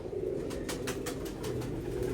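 A pigeon coos in a low, rolling, continuous murmur, close and steady, with faint higher rustles above it and no voices.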